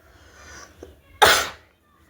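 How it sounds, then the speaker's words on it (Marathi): A single sharp cough bursts out close by in a home kitchen, loud and brief after a quiet stretch with faint background sounds. "खोकला येतो थोडा थोडा"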